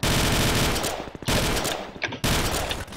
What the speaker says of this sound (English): Someone's trying to shoot at me and it's horrible